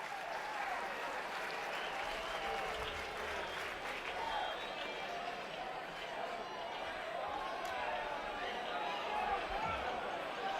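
A steady, dense roar from the stands at a Florida versus Georgia college baseball game, with the crowd cheering and calling out continuously throughout, loud and close, with no clear gaps.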